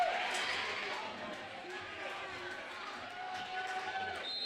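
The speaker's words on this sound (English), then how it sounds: "Crowd's definitely an energetic crowd, a loud crowd, especially for the Marion local fans" Marion Local fans cheer loudly and steadily at a high school volleyball match against St. Henry, a dense, energetic crowd roar filling the gym throughout.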